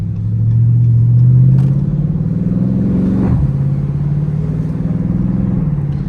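A Dodge Scat Pack engine revs up and drops back as it shifts through gears with paddle shifters, a steady close rumble with pitch rising and falling between shifts.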